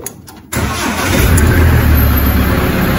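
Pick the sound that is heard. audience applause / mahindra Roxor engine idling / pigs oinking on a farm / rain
mahindra Roxor engine idling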